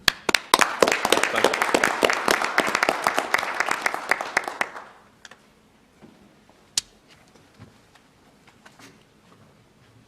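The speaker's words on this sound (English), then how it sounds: "I'd like to give our citizens a round of applause for what they have done for Nash County." Brief round of applause at a county commissioners' meeting in Nash County, a few dozen people clapping in a room for about five seconds before it fades, followed by a quiet spoken thanks and scattered small noises.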